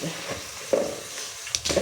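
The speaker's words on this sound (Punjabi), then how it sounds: "ਲਓ ਜੀ ਲਾਈਏ ਤੜਕਾ ਤੜਕਾ ਟਾਈਮ ਹੋ ਗਿਆ" Tempering spices for a tadka hit hot oil in a mixed vegetable dish, giving a brief soft sizzle with a couple of sharp clicks from a utensil against the pan, quiet and close.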